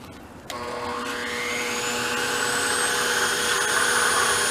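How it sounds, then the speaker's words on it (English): A woodgas gasifier blower feeding a Predator 8750 inverter generator switches on and spins up, a loud close whine that rises in pitch and stays steady. "So we're going to go ahead and fire the blower up."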